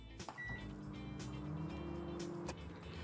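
A microwave oven at full power cooking a mug cake, running with a steady mechanical hum and a faint tonal drone that lasts throughout.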